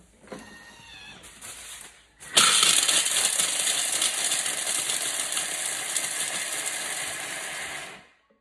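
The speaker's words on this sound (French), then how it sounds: "Et on va mixer sur vitesse 7, 5 secondes." A kitchen food processor blends praline at speed 7, starting with a short lower whir, then surging into a loud, steady high-pitched roar for about six seconds before cutting off abruptly.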